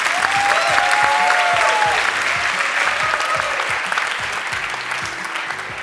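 A crowd claps steadily and loudly at a graduation ceremony for digital media technology graduates, a dense wash of hands with faint cheering, holding strong throughout and easing slightly toward the end.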